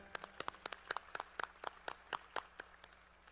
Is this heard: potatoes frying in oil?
no